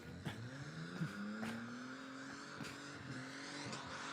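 A Ford AU Falcon rolls onto the burnout pad at a night drag, drift and burnout event, its engine note climbing steadily in pitch beneath sharp, repeated bangs and crowd noise.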